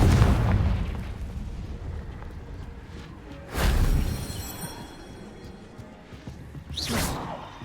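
A Confringo spell explodes in Hogwarts Legacy, with booming blasts and whooshing bursts, one heavy impact at the start and two more sharp, swelling explosions later, standing alone without talk.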